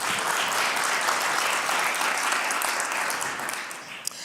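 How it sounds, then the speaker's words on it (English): A summit crowd gives itself a round of applause, a broad, even wash of many hands clapping that holds steady and slightly tapers toward the end, moderately distant and without talk. "let's give ourselves an applause"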